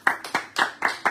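Group of people clapping at a houseware shop sale event, with five sharp bursts of applause in a fairly steady rhythm, close and moderately loud, with no talking.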